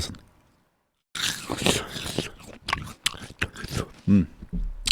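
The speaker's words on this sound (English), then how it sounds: "You bite it and listen to the noise that makes when you bite it" After a moment of silence, loud close crunching of something firm being bitten and chewed, with wet crackling bursts.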